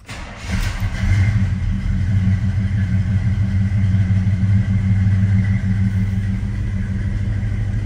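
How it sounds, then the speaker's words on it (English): A carbureted 1983 Chevrolet C-10 truck engine cranks and fires up from cold, then settles into a loud, rough, continuous rumble with a few revs, close by and without talk. "I'm going to kick it twice and fire it up."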